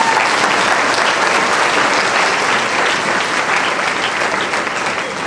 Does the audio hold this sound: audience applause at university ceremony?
yes